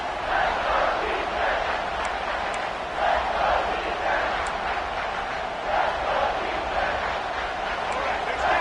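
A Clemson football stadium crowd roars and cheers as the defense holds near the goal line, a dense, steady wall of distant noise swelling in waves, with a commentator talking over it.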